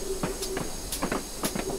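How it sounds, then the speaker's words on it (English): A train runs along the line in Train Simulator 2015, with repeated wheel clacks and short hissing bursts in an uneven rhythm over a steady rumble. No voices are heard. "So let's bring the train to a stop."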